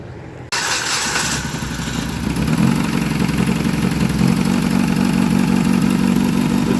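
A Dodge Caliber with a 2.0L engine and a crank-no-start fault cranks and catches, then runs in a loud, close, steady idle that settles into a rougher, fuller drone.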